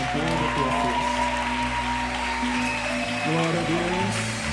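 Church congregation clapping at a Brazilian evangelical service, a steady wash of applause heard under an amplified preacher's voice and backing music throughout.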